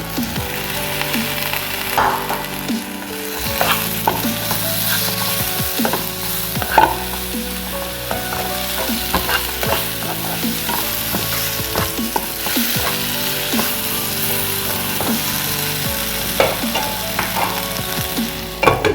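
Continuous frying sizzle with repeated spatula scrapes as tomatoes are sautéed in a pan, close and steady for the whole stretch, no talking.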